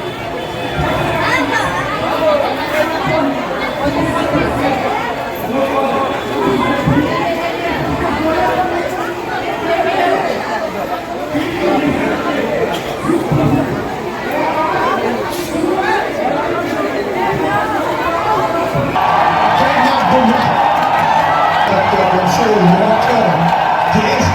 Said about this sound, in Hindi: कितनी भीड़ हो रही है वो देखिए।